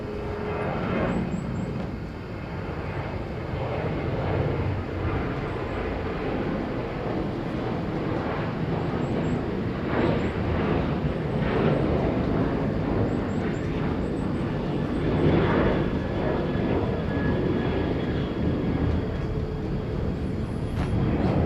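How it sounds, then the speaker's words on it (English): A Jeju Air Boeing 737-800 at Incheon airport gives a steady, loud jet engine roar that holds broadband and continuous for the whole stretch, with slight swells as it moves, and no talk over it. "Jeju Air, flight 1301, 737-800, on its way to Osaka"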